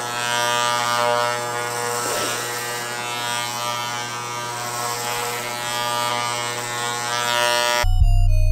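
Electric clippers buzzing steadily up close while shaving a head, a continuous drone with small shifts in tone as they pass over the hair, ending abruptly near the close.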